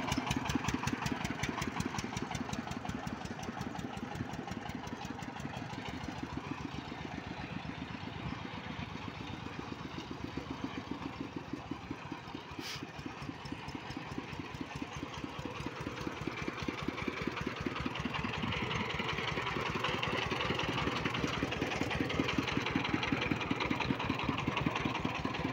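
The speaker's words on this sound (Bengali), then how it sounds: "এটা 4 চাকা হাইড্রোলিক সিস্টেম গাড়ি" A diesel engine on a four-wheel hydraulic motor van idles with a steady, rapid mechanical chug and knock, close and continuous throughout, with no voices.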